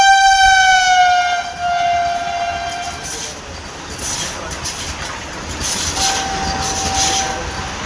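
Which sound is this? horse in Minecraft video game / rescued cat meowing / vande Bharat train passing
vande Bharat train passing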